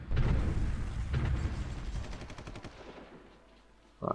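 Artillery firing in the strategy war game Supreme Ruler Ultimate, a dense rapid barrage of close gunfire bursts that gradually thins and fades, ending with a short brighter sound.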